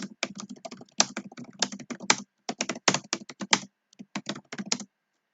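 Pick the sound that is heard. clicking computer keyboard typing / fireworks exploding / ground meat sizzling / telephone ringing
clicking computer keyboard typing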